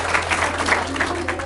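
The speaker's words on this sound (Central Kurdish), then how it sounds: "دەست خۆش چەپڵەیەک بۆ گروپەش" Audience applause for a group at a leadership talk, a steady dense wash of many hands clapping together from start to finish with no pauses.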